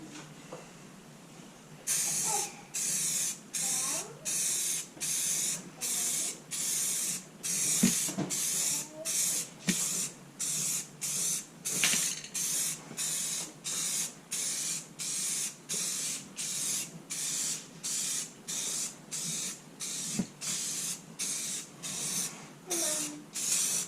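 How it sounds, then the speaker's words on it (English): A spray gun lays a heavier wet coat of primer onto a car body being repaired for a large rust hole, in over a dozen close, loud hissing bursts, each a second or so long, with brief pauses between. "So now that the first light coat of primer has dried, I'm gonna come through with my heavier wet coat"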